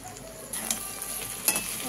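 Lotti kochu curry frying on a low flame in a pan, a soft continuous sizzle with a few faint stirring clinks.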